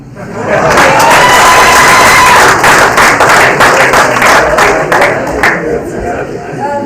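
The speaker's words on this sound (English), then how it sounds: "I think we can give them another round of applause" Loud, sustained applause from a conference audience, dense clapping that swells quickly, holds steady, and then gradually thins out toward the end.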